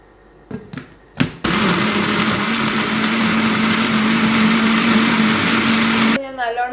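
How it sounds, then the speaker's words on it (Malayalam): Electric blender whirring through grapes and sugar for juice, first a few short pulses and then a loud steady motor hum that runs for several seconds before cutting off, with a voice speaking just afterward. "ഇനി നമുക്ക് ഇത് ബ്ലെൻഡ് ചെയ്യാം."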